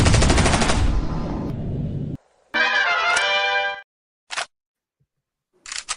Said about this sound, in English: Nice touch with the gunshot.